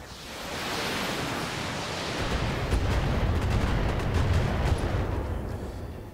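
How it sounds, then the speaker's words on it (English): Missiles fired in a mech video game make a broad, rumbling roar of overlapping launches and blasts, a continuous dense wash of noise that swells in the middle and fades slightly toward the end. "unload a lot of missiles at it"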